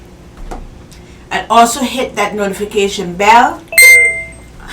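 A bright bell-like ding rings out once after a stretch of talking, its tone lingering briefly before fading.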